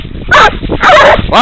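Several coon dogs bark and yip in quick bursts, loud and close, with brief gaps between the calls.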